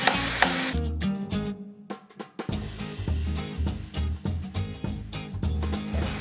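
Onions and tomatoes sautéing in a pan for a spicy eggplant stir-fry, with a steady sizzle broken by repeated scraping stir strokes of a utensil against the pan, close and fairly loud, no talking.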